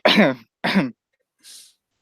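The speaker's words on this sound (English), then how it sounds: "You can cough though." Two short, sharp coughs in quick succession, close by, followed by a brief breathy exhale.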